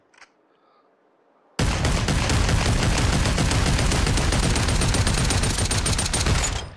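Sustained rapid gunfire from a gun in the VR shooter Population: One, starting abruptly after a near-silent moment and continuing loud and dense without pause for about five seconds.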